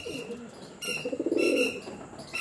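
Pigeons coo close by in two soft, throaty bursts, the second one longer and rolling, over faint background noise.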